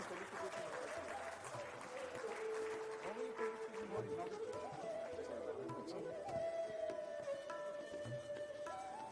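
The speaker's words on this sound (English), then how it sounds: "With a big round of applause," Applause from the audience at the inaugural ceremony of a valuers' congress, a soft, steady patter of clapping heard under a prominent voice and tonal sounds, somewhat distant and quiet.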